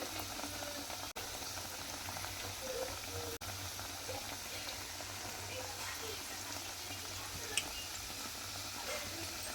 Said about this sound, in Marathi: तर आता हे मी तुम्हाला तळून दाखवते